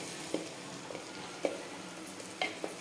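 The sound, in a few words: mutton chops frying in spices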